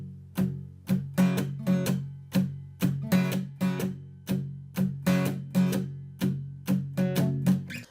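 Acoustic guitar played with palm-muted swing strumming, short choppy chords in a steady bouncing rhythm, close and clear with no talking.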